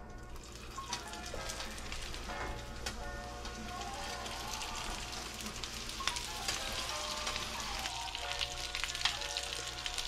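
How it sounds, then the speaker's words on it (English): Lake trout fish cakes, bound with egg and panko breadcrumbs, fry steadily in a pan with a continuous crackling sizzle, close and moderately loud, with occasional small clinks throughout. "Start frying away."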